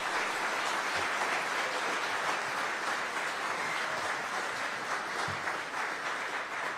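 Sustained applause from a city audience after a balanced municipal budget is announced, a dense steady wash of many hands clapping at even loudness for about seven seconds with no one speaking.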